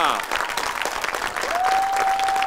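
A crowd in the audience claps loudly and continuously for a drummer at a performance, while a voice speaks over the applause and a brief whistle-like tone sounds near the end.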